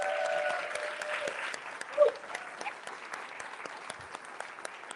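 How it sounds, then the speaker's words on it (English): An audience at a queer poetry and memory event applauds a poet, a steady wash of clapping with a few voices and cheers mixed in, gradually thinning out. "y'all clap it up for Logan"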